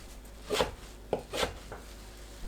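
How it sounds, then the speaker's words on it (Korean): A knife chopping rinsed sea lettuce (parae) into small pieces on a cutting board, several quiet close taps in an uneven rhythm with faint rubbing between cuts. "작게 썰어줍니다."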